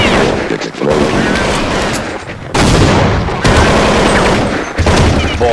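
A loud explosion in Counter-Strike 1.6, with dense, booming, rumbling blasts and crackling debris that fill several seconds under some overlapping game noise.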